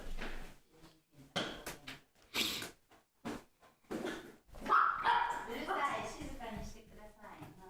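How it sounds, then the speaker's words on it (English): Several dogs bark loudly and repeatedly nearby, in uneven bursts of sharp barks and yips, while a person talks over and between them. "And yes, the dogs are going crazy."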